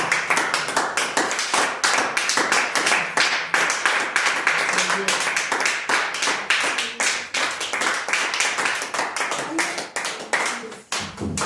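Church congregation clapping together in steady, dense applause, loud and close for the whole stretch, with voices mixed in underneath before it thins out at the very end.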